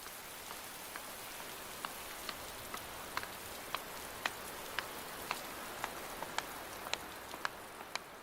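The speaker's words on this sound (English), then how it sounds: "The continuous rain washes away many of the plots, and Yi Chen is forced into damage control." Continuous rain falling on open salt fields, a soft steady hiss with scattered sharp drip ticks at irregular intervals, quiet and without voices.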